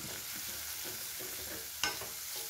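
Onions sautéing in a pan for goat liver gravy give a steady close sizzle with soft stirring scrapes and one sharp utensil clink near the end, with no talking.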